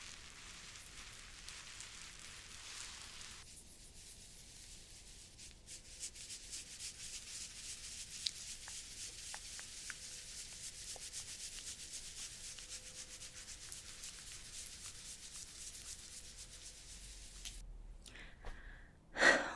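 Soft, close rubbing as clown face paint is worked into skin, a steady gentle scratchy friction continuing for most of the stretch and ending with a brief louder handling noise.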